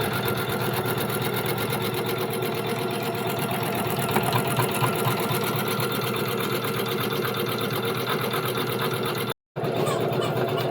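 An embroidery machine stitches a design with a fast, even mechanical rattle, close and continuous, broken once by a brief dropout near the end.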